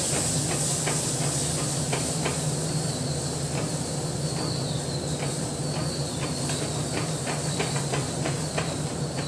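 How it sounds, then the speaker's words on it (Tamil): Home-ground chilli powder and garam masala sizzle as they are sautéed in a pan for a liver curry, a steady close hiss with faint irregular ticks throughout and no talk. "வீட்டில் அரைச்ச குழம்பு மிளகாய்த்தூள், கரம் மசாலா தூள், இது எல்லாத்தையும் சேர்த்து வதக்கலாம்"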